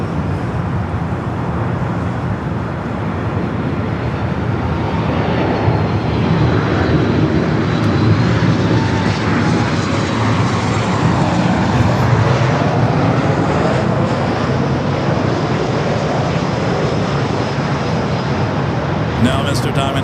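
British Airways airliner on arrival at LAX from London Heathrow, a loud, sustained jet engine roar that swells and rolls past nearby, blended with steady roadway traffic noise throughout.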